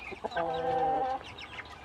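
Tiger breed chickens on a backyard farm cluck softly, with one bird giving a short drawn-out call amid scattered clucks and faint background noise.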